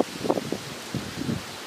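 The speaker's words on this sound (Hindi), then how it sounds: "तो अभी हवा चल रहा है बहुत ज़ोर से" Strong gusts of wind buffet a phone's internal microphone outdoors on a windy day, producing low rumbling bursts of buffeting in two clusters, loud and close, with no voices.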